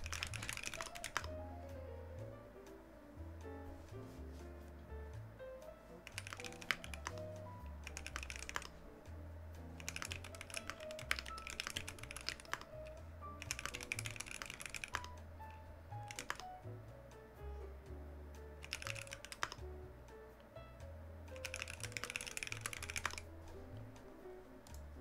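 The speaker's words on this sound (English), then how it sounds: "You guys are wondering what I'm typing on. That's my Iron 165. It's running Novelkeys Silk Yellows right now." Bursts of typing on an Iron 165 mechanical keyboard fitted with Novelkeys Silk Yellow switches, close and clicky, in irregular clusters of keystrokes separated by short pauses over a low background hum.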